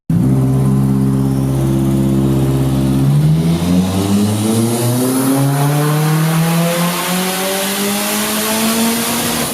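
A tuned Nissan 240SX notchtop with an SR20 engine running on E85 holds a steady loud idle, then revs hard and climbs through the range in one long sustained pull, close and continuous.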